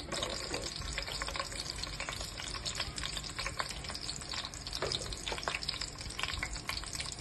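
Green chillies and onions fry in hot oil for a spicy mutton head curry, a dense, busy crackling sizzle that holds steady throughout.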